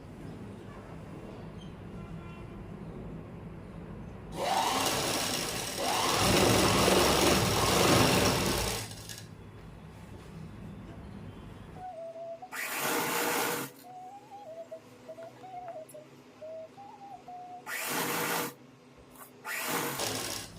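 Sewing machine stitching a salwar in a home tailoring session, with short bursts of loud mechanical whirring, one long run of a few seconds followed by several brief start-stop runs, separated by quieter pauses.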